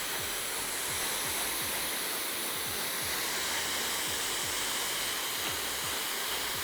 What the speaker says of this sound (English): And when drying hair, always start at the back, again, work forward to make sure you've dried everywhere.